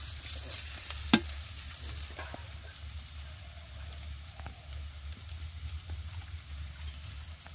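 Brahmi greens frying in ghee in a pan, stirred with a spatula, give a steady close sizzle with soft scraping, plus one sharp clink near the start and no talk.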